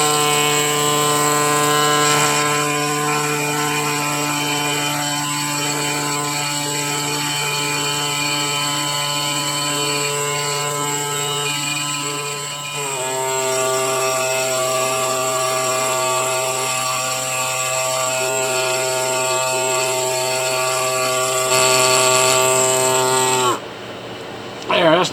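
A power tool cleans rock from a fossil crab, giving a steady high whine with a strong droning hum that shifts pitch slightly midway and cuts off near the end.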